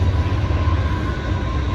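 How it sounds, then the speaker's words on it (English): A coal-hauling freight train passes by, a steady loud low rumble of rail cars rolling along the tracks with no break through the short stretch. "Train hauling coal."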